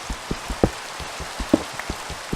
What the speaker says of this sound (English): the rain is loud enough where I can't really hear if I'm near a cave, or near lava